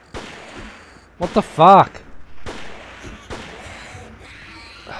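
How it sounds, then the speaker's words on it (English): Gunfire in the horror video game Forbidden Siren: a few sharp, spaced shots crack out over a dark, droning backdrop, and a startled voice speaks between them. "Why did that take like 6 shots to hit?"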